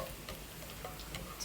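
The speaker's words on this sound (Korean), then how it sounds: "이렇게 지글지글 맛있게 마늘이" Garlic frying in a pan for goat bulgogi, a faint, steady crackling sizzle with scattered small pops and ticks, heard alone without talk.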